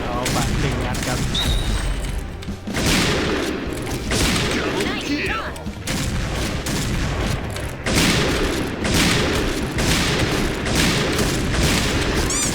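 Gunshots ring out in the Point Blank shooting game, with Barrett and Kar98k rifles in play: repeated sharp shots and booms over a busy game soundscape while a player talks.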